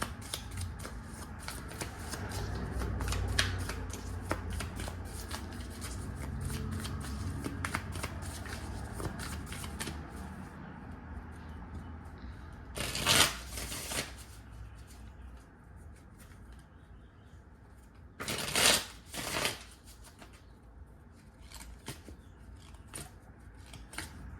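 Cards are shuffled continuously with dense riffling and flicking, followed by two louder bursts of bridging riffles near the end.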